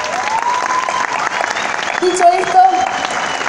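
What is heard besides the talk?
audience applause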